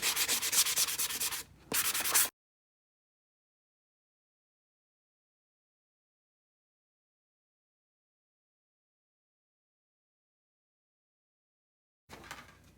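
Hand sanding roughs up painted wood to weather it, a close, loud scratchy rubbing that runs for about two seconds with a short pause. After a long silence it starts again briefly.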